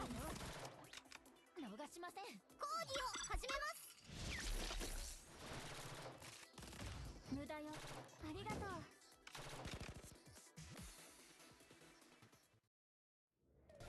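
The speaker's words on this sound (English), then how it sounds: "That type of sniper rifle is good." Gunfire from a sniper rifle and other weapons in the game Blue Archive cracks in bursts alongside clashing, metallic effects and layered game audio, with people talking over it, before everything drops to near silence at the end.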